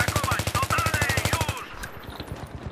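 Rapid automatic gunfire from the video game Battlefield 3 multiplayer rattles in an even, fast burst of shots for about a second and a half, then drops to scattered quieter shots.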